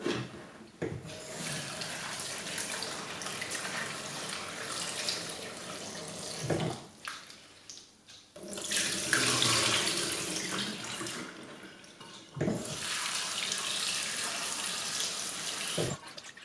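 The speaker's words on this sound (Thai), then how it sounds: "หั่นเสร็จก็เอาไปล้างน้ำสัก3 รอบนะคะ" Running tap water rinses chopped sweet potato pieces in a sink, a steady close splashing flow that dips briefly twice before surging again, with faint rubbing of the pieces as they are washed.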